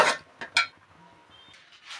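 Flour being stirred into a pot for dudh puli dough, heard as a few crisp metallic clinks and knocks of a utensil against the vessel, two close together at the start and softer scraping after, in a quiet room.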